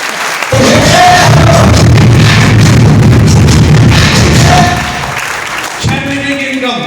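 Audience clapping at a business success seminar, a dense burst of applause for about four seconds that fades. A voice talks and a brief musical tone follows near the end.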